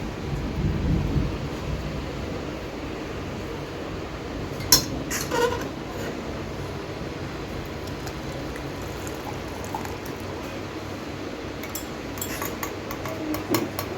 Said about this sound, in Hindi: मैं बारिश के साथ झमाझम बारिश के साथ